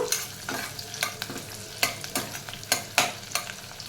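Capsicum and other ingredients sizzle in a pan for paneer pulao, a soft frying hiss broken by a quick, regular series of spatula scrapes and taps, close up with no talking.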